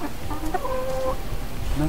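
Chickens clucking close by in short, throaty bursts over a busy background murmur.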